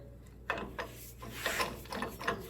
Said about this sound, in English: then we'll get our ball joint press tool. Go ahead and set it down there.